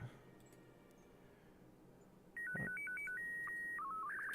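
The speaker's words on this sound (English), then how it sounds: "make some cool beeping sounds" After a quiet stretch, a rapid series of electronic bleeps in shifting pitches plays from the game Kerbal Space Program 2, bright and synthetic, like a retro game tune.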